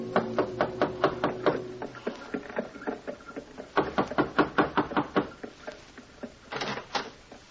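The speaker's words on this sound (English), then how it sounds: "received a wink in return, and knocked on a door" Knocking on a door in an old-time radio crime drama, two long runs of rapid, sharp raps separated by a short pause, close and crisp with no talking.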